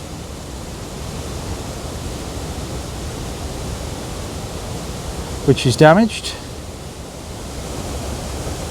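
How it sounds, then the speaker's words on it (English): Steady rushing water roars continuously through Black Rock Gorge, a broad wash of cascading flow, with a brief spoken phrase briefly rising above it midway. "That water cascading away through there is phenomenal"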